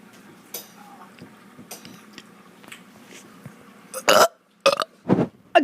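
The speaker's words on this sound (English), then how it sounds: "Who enjoys burping? A lot of people." A child lets out a run of loud, raspy burps close to the mic, three or four bursts bunched near the end after a quieter stretch of faint room noise and small clicks.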